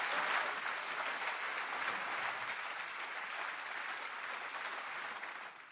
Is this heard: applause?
yes